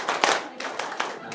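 A group claps the Scout rhythmic clap (tepuk pramuka), a brief burst of several quick, uneven hand claps close by, fairly soft over a background murmur.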